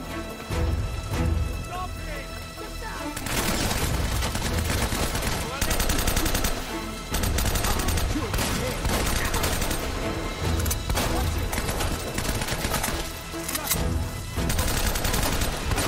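Bursts of gunfire in the video game Uncharted: Drake's Fortune, repeated volleys and automatic fire with sharp impacts, loud and close, broken by short pauses, with someone talking over the action.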